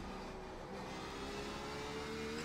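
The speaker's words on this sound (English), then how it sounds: "we just over-revved the engine" A GTE race car at Imola in the iRacing simulator, its engine held at high, over-revving pitch in a steady droning whine that rises slightly, continuous and moderately quiet, with no talking.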